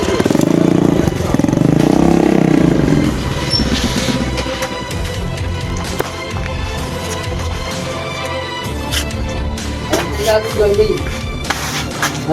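A motorcycle labours uphill with a steady, rough engine drone and rattling clatter, loud and close, while people talk over it.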